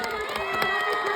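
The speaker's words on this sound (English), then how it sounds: "Give yourselves a round of applause." A live event audience cheers and shouts with whoops and clapping, a dense, bright burst of crowd noise that stays loud for its whole short length.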